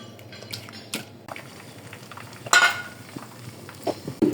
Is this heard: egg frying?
yes